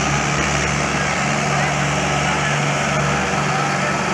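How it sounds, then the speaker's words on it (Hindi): Two tractors pulling together run their engines in a steady, loud, unbroken drone. "देखिए डबल ट्रैक्टर की ताकत।"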